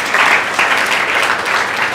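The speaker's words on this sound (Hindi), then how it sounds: "बहुत बढ़िया, तालियां बजा सकते हैं।" A group class in Vishwas Nagar, Delhi, bursts into clapping, a dense, loud patter of many hands that swells and holds for a couple of seconds.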